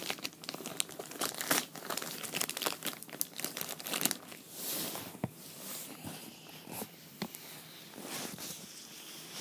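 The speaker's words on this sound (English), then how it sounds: "I'll just quickly take the plastic off." Plastic wrap being pulled and torn off an 8-pack of Sunny D Tangy Original bottles, with close, loud crinkling and crackling in irregular bursts that ease off toward the end.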